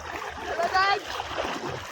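Water splashes and churns as people jump into a large flowing canal, a brief louder splash burst rising over running water and excited voices.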